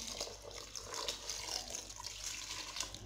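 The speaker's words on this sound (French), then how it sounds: "Maintenant, je vais couvrir d'eau." Water poured into a pot of white beans, a soft continuous trickle and splash that stays fairly quiet and close for a few seconds.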